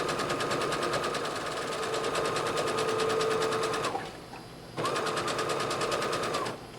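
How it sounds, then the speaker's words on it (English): A sewing machine stitching a seam on fabric for a mop cap, a loud steady rapid needle rhythm that pauses briefly, then resumes at the same pace. "You don't have to sew this fast."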